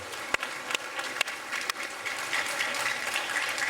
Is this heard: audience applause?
yes